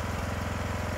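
A small engine idles close by, a loud, steady, low putter with an even rapid pulse and no pauses.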